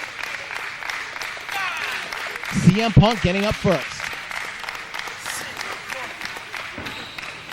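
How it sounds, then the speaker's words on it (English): A live wrestling crowd cheers and applauds steadily throughout a match, with a louder burst of voices partway through, heard beneath a commentator talking. "the fans cheering for both men when they're down"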